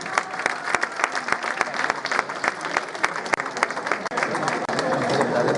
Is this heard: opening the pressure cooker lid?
no